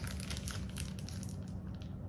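Plastic bag crinkling and crushing while a Momcozy M9 breast pump is unpacked, a steady close rustle of handled packaging throughout with no talking.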